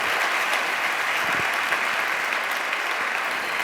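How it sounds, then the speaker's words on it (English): Steady applause from an audience after a keynote on healthcare platforms, dense clapping held at an even level throughout with no voices over it. "I think we can applaud you"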